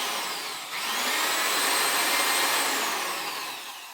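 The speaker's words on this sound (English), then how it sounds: "So this is my 350 watts drill that I have not been using for many years, lying around discarded." An old 350-watt electric drill runs with no load, a steady high whine that spins up within the first second and then holds loud and continuous, easing off slightly at the end.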